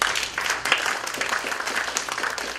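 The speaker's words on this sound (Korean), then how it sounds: "다 같이 박수 주세요." Audience applause at an award ceremony, a steady dense wash of many hands clapping, fairly near, continuous for the whole stretch with no voices over it.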